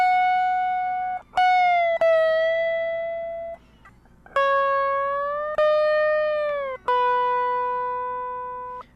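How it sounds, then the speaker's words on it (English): Sustained slide guitar notes that glide between pitches with rich harmonics, the closing slide section of a song, played alone in long phrases with brief gaps between them. "to close out the song, it's going to be all slide guitar from here on out"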